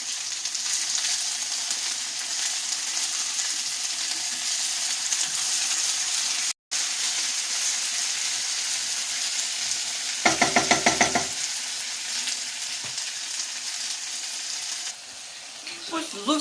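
Potatoes and carrots in a pan give off a loud, steady sizzle that runs almost without a break, with a brief stir partway through.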